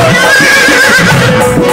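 A horse lets out one loud, drawn-out neigh that wavers in pitch and fills the whole moment, up close and with nothing else heard.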